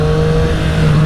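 Triumph Street Triple RS motorcycle, a 2020 model fitted with a LeoVince LV One EVO slip-on exhaust, holding a steady loud engine drone for a moment, with no talking.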